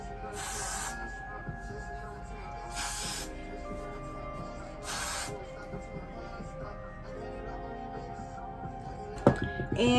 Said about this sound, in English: Take my Got To Be Glue spray and we're gonna spray it across my hairline.